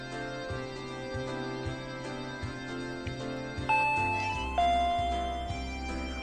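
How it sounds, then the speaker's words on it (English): A soft chiming doorbell rings out in the visual novel Higurashi When They Cry Hou over a repeating electronic background tune, two clear tones standing above the steady music. "I heard the doorbell 10 minutes later."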